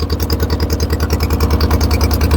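A fishing boat's engine on a river chugs steadily up close in a rapid, even pulse, loud and alone with no talk over it.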